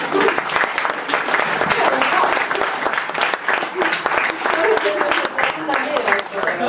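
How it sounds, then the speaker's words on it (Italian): A crowd at a public political assembly in Bari claps steadily, a dense patter of applause that keeps going at an even level, with voices mixed in underneath. "si becca 6 applausi"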